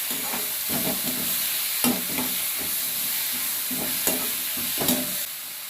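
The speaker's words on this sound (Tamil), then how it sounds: "கொஞ்சமாக உப்பு தக்காளி வதங்கிறதுக்கு மட்டும் நான் கொஞ்சமாக எடுத்து சேர்த்துருக்கேன்" Tomatoes sauté with a little salt in a pan for radish chutney, a loud continuous sizzle overlaid by repeated spatula scrapes and taps at an uneven rhythm, close up and without speech.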